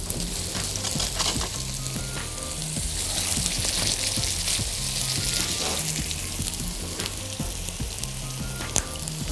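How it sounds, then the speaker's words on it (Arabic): Meat for Salisbury steak sizzles loudly in a hot frying pan, with a continuous bright crackling hiss and frequent sharp pops throughout, close and without talk. "ابتدي اخد اللحمه بتاعتي هزه كده ونزل، هو ده الصوت اللي انا بدور عليه اللي انتوا سامعينه دلوقتي"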